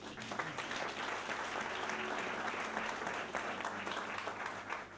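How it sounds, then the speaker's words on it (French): A church congregation applauds in a steady wash of clapping that lasts throughout, with a few voices faintly mixed in. "acclamons pour Nadège"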